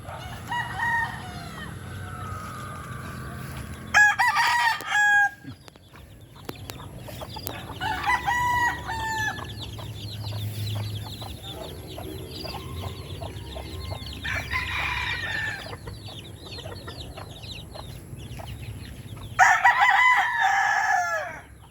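Chickens clucking steadily nearby while a rooster crows loudly several times, the long crows rising above the flock's chatter at irregular intervals.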